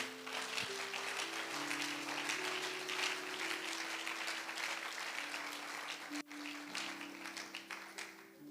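Church congregation applauding steadily throughout, broadband clapping over sustained organ or keyboard chords, with a brief dip near the end before the clapping resumes.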